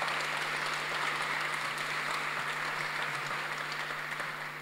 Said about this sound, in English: Huge thank you to you guys and to all the speakers who are still around. A round of applause.